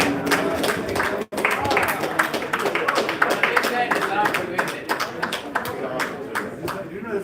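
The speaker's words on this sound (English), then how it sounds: "A round of applause, gentlemen." Applause for the winner at a pool tournament final, a room of people clapping steadily in sharp dense bursts throughout, with talk mixed in.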